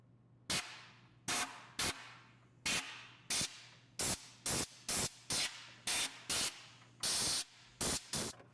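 Short hissing bursts of an aerosol can of penetrating oil sprayed onto the front trunnion of a SawStop contractor table saw, about a dozen quick sprays with brief pauses between, close and crisp.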